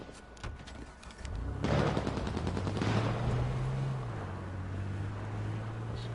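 Gunfire in the video game H1Z1 bursts in suddenly and keeps up as a dense, loud rattle of rapid shots, with a low steady drone running underneath to the end.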